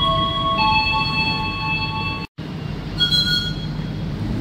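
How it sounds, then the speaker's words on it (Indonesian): Argo Semeru passenger train idling at a station during water refilling, a loud steady mechanical rumble with high whining tones and a brief squeal, a momentary dropout midway. "Proses pengisian air sudah selesai dan kereta api Argo Semeru segera diberangkatkan kembali"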